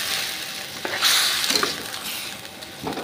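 A mango recipe cooks in a pan with a steady sizzle and occasional stirring scrapes, close and fairly loud, with no talk.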